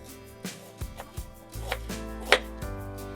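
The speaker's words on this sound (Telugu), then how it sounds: "ఇంకొక ఉల్లిపాయని తిరుమాతకి కట్ చేసుకోవాలండి" A knife chops an onion on a cutting board in a home kitchen while a white chickpea curry is being prepared, giving a handful of sharp, close, uneven strokes with no talking.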